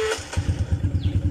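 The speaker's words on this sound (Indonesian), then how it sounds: "Sekarang kita start lah, start bagi dia running kan." A Modenas CT115S motorcycle engine, freshly serviced with an oil change, turns over and catches after a short start, settling at once into a steady, rapid, close putter with no talk.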